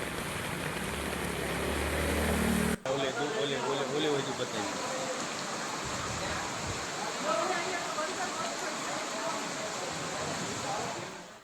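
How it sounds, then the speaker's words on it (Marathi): Heavy rain falls during flooding in Surat, Gujarat, with steady, rushing water noise throughout and a brief abrupt cut near the start, while a news voice speaks over it. "मुसळधार पाऊस गुजरातमधल्या अनेक शहरांमध्ये सुरू आहे."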